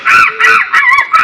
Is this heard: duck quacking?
yes